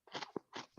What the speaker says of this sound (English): Can you hear me crunching?